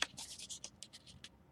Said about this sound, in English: We're going to get our angle and cut.